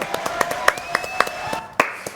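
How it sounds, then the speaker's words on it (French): A small audience at a French live stage show claps in a quick, fairly steady rhythm, the individual hand claps distinct and close, with a sustained tone and voices running underneath. "Renato et Caroline, applaudissements."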